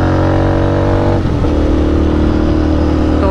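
A scrambler motorcycle cruises along a highway, its engine droning loud and close with a steady hum, shifting briefly partway through before settling back into a constant ride.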